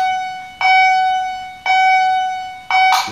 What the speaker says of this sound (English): so lights on alarm